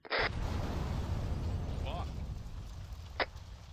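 Explosions in a military video game: a sharp blast opens, a second brief burst lands near the end, and a low rumble and voices fill the gap between them.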